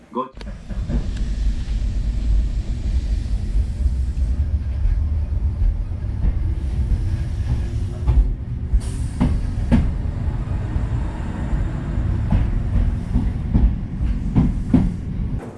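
A Kintetsu train in Nara Prefecture departs a station toward Yoshino and rolls along steadily with a deep continuous rumble, broken by sharp rhythmic clacks of wheels over rail joints.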